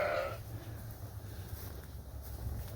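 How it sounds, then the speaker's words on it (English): A barn holding about 300 sheep, mostly ewe lambs: one short bleat opens the clip, then a steady low rumble and airy background noise follow with no talk. "there's 300 sheep in here, so it's a lot of noise."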